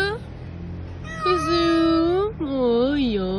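A cat rescued after an earthquake gives two long, drawn-out meows close by, the second wavering in pitch, after a moment of quiet room sound.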